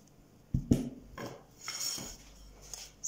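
Rolling out homemade dough for Turkish cheese börek on a board, with a few sharp wooden knocks and clatters followed by softer rubbing and rolling strokes, close and alone.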